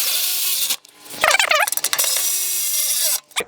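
Ratchet with a 12 mm socket tightening skid plate bolts on a 2016-2020 Toyota Tacoma TRD Off-Road 4x4, a close, loud burst of rapid clicking pawl strokes in the middle, between stretches of steady broadband noise.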